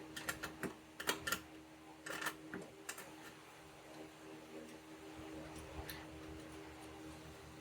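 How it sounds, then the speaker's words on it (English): A ratchet works a 10 mm nut loose on the door of a 2002-or-later Mini Cooper, with quick clicking bursts early on, then softer, sparse ticks and faint fiddling at close range, fairly quiet overall. "It's a 10 millimeter nut that we need to loosen up and remove."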